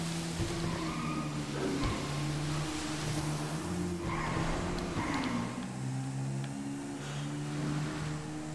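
In GTA 5 gameplay, a motorcycle races through narrow lanes with a steady engine drone whose pitch rises and falls, plus occasional tire skids, continuous and close throughout.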